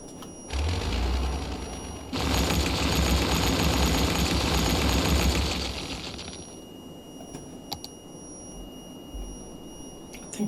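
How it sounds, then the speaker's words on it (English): Roads get demolished in the Cities Skylines city-building game, a dense crackling burst of destruction effects lasting several seconds, followed by a few faint interface clicks and beeps. "So let's start destroying some roads."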